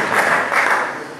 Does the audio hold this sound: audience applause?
yes